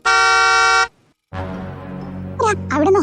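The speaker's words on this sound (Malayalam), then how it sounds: "അവിടെ നിന്ന് ഹോൺ അടിക്കുന്നേ." A vehicle waiting at a gate sounds its horn in one loud, steady blast of under a second, then people talk nearby after a brief pause.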